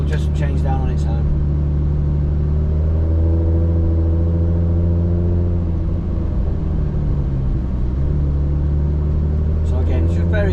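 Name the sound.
Nissan R34 GTR with ZF 8-speed transmission downshifting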